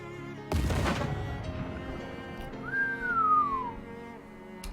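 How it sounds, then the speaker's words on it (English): A single clear rising-then-falling whistle tone sounds for about a second in the game Shadows Over Loathing, following a sharp burst, with quiet game ambience underneath. "That was a surprisingly successful whistle."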